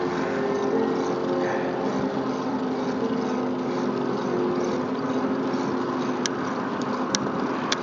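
A small aircraft takes off at a regional airfield, its propeller engine a steady, broad drone that holds loud and continuous throughout, with a few faint high clicks near the end and no talk.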